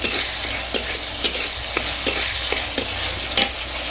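Joha rice and spices fry in a pan while being stirred, a steady sizzle broken by regular sharp scrapes of the spoon against the pan.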